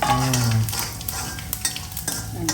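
Mustard seeds and a dried red chilli crackle and sizzle in hot oil for tempering, with a spoon stirring through a steady frying hiss and no talking.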